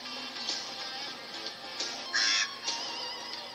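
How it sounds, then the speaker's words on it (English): A crow in the 1998 TV series The Crow: Stairway to Heaven gives a few harsh, rasping caws. They stand out loudly over a continuous background sound. "The crow following him."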